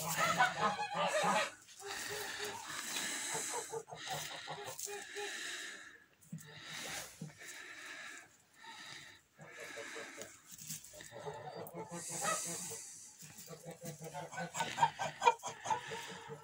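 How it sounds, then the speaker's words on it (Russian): Eden geese honk repeatedly in an uneven chorus, mixed with clucking and snorting fowl nearby, fairly faint with brief pauses. "Так что заводите единских гусей, не пожалеете."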